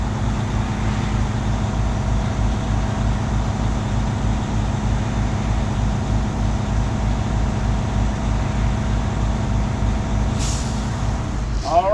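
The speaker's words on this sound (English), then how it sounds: "we're gonna wait until we hear it kick out. It should sound like psh." Truck engine idling with a steady, loud low rhythmic chug, then near the end a sharp burst of air hiss as the air brake governor kicks out.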